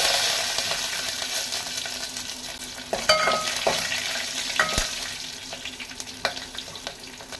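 Green chillies fry in hot oil with a continuous crackling sizzle, sharpened by a few distinct pops and spits of splattering oil around the middle and later on.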